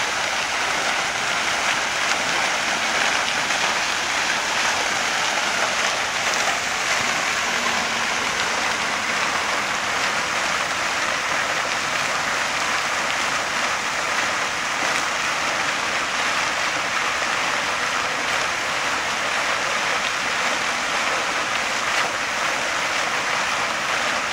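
Steady rushing water fills the scene, a broad continuous wash like a stream or surf heard close, unbroken and constant throughout with no voices over it.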